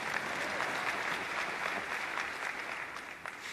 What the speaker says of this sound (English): You could applaud him. It's good. I applaud him too.